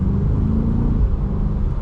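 A 2025 BMW M8 Competition accelerates in normal mode, giving a steady, deep engine rumble heard from inside the cabin, loud and sustained for a couple of seconds with no talk.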